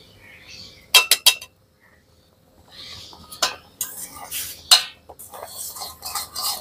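A semolina and milk powder mix is stirred into melted sugar in a pan over low heat, with sharp metallic scrapes and clinks in bursts separated by short pauses.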